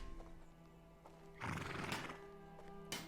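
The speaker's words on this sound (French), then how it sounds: "Des chevaux." Horses neigh in the video game A Plague Tale: Innocence, with one loud whinny in the middle and a shorter call near the end over a quiet ambient game backdrop.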